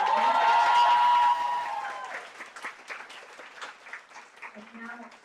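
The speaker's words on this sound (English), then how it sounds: "huge round of applause" Audience applause at a student network gathering, ESN Ukraine spring event, a sustained burst of clapping that fades under a voice and lingering scattered claps.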